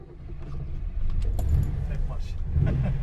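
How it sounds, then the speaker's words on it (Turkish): Mercedes inline six-cylinder engine cranks and catches on the first try, settling into a low rumbling idle close by while people talk over it. "Tek marş. Sese bakar mısın ya? 6 silindir sıralı."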